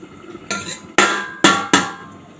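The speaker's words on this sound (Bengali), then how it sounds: "তো দেখো তোমরা ঢাকনাটা নামিয়ে নিচ্ছি" A metal lid comes off a pot of small fish curry with spinach in a few loud, close clanks and rattles, three sharp hits in quick succession after a softer first knock.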